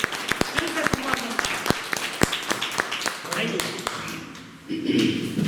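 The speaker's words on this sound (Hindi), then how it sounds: "दमदार जोरदार तालियों दिल से सम्मान।" At a core training event in Jaipur, an audience claps for a personal leader, with loud, sharp, uneven claps close by, a voice and crowd murmur underneath, and the clapping fading before a louder burst of noise at the end.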